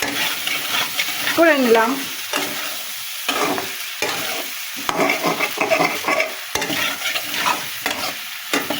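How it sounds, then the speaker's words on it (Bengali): Fried potatoes stirred with masala in a kadai, close scraping and clattering strokes of a spatula over a light sizzle, with a short spoken phrase early on. "আলুটা মশলার সঙ্গে একটু নাড়াচাড়া"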